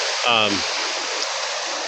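Fast-moving, fairly deep stream water rushes in a steady broadband wash throughout, with a short burst of a voice near the start.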